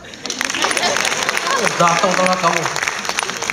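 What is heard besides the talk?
audience applause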